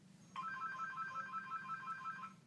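A phone ringtone sounds during a Skype call, a bright repeating electronic melody of quick alternating tones lasting about two seconds before cutting off, clear over a faint background hum.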